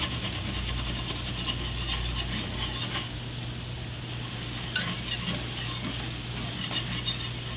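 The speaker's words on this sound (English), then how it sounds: "You want to just whisk it around. We're making a roux." Flour being whisked into melted butter in a pan to make a roux for queso beer-cheese dip, with a steady close sizzle and a continuous scraping, rasping stir throughout.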